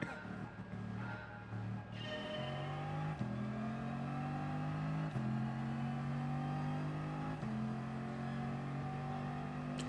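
A Ferrari engine in a video game revs up and shifts repeatedly, pitch climbing in steps through several gear changes, loud and steady with a faint voice early on.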